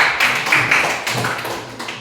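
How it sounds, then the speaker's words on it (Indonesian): An audience claps for group 3 in a classroom, a short, loud burst of applause from nearby hands that tapers off. "Berikan tepuk tangan juga buat kelompok 3."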